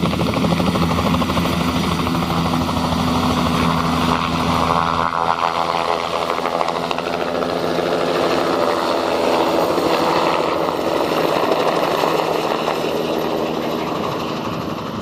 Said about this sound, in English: During the return flight, the helicopter drops over the edge of the glacier and hurtles down the narrow chasm